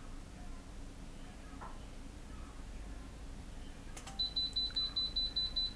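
Electronic beeping alarm from an HGM7220 generator controller after a failed engine start, a steady high tone repeating in a quick pulsing pattern that begins partway through over low background hum.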